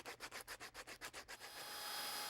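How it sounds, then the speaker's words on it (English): Sandpaper rubbed back and forth along the edges of wenge wood keystone accents for a mirror frame, about a dozen quick even strokes, then a steady softer hiss, close and quiet. "we finish off our Keystone Accents by softening the inside and outside edges with some sandpaper"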